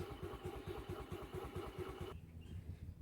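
A small scooter engine putters in a rapid, regular pulse, close by and fairly quiet, then its tone changes and softens near the end.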